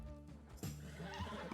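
Horse in Red Dead Redemption 2 roleplay gives a sharp neigh that rises into a rattling whinny, close and loud, with soft hoof clops and faint noise around it and no talking.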